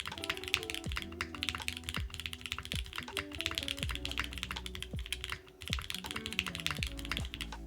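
Fingers type quickly and continuously on a mechanical keyboard with PBT keycaps, giving a dense, fairly quiet run of clacky keystrokes with one brief pause.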